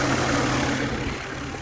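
A 2006 Ford Fusion engine idles steadily with the A/C compressor spinning, a close, even mechanical hum with a low droning tone and whirring under the hood, easing slightly in level toward the end.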